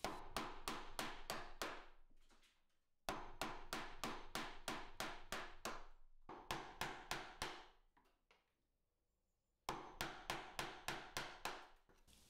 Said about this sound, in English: I can then take a sharp chisel and start removing most of the waste.